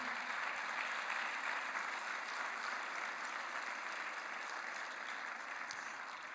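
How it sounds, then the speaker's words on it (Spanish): A church congregation claps during a sermon in a soft, distant, steady wash of applause that barely changes from start to end. "Denle un aplauso ahí al Señor."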